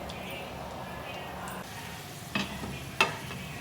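Makhana (fox nuts) fry in a pan for a sweet makhana payasam, giving a soft, steady sizzle with a few louder stirring scrapes near the end.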